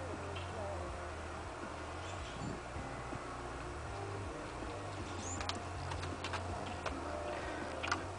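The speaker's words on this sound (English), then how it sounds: "I'm going to turn on both the blinkers" Car turn signal blinkers, both switched on while testing trailer lights, ticking faintly and steadily over a low idling hum with light background noise.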